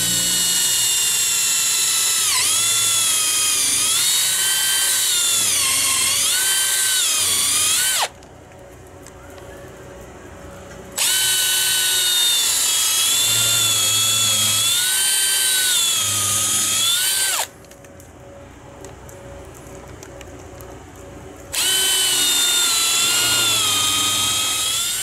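A power drill countersinks a hole in two loud, sustained bursts, each whining and shifting pitch as it bites, separated by brief pauses of quieter background.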